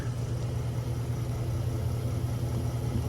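A 2022 Nissan Frontier's 3.8 engine idles with a steady, close, low exhaust rumble, even and unbroken throughout with no voices over it.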